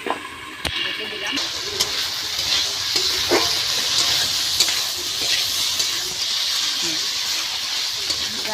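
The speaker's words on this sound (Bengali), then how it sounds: "তরকারিটা এবার আস্তে আস্তে একটু কষানো হোক।" Fish and taro curry being slowly sautéed in a pan, a loud hissing sizzle with occasional knocks and scrapes of a spoon.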